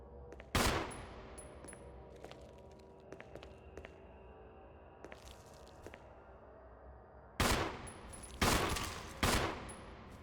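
Pistol shots in Resident Evil 1 ring out as a loud crack early on and then a cluster of three near the end, separated by quiet game ambience with faint clicks; no speech.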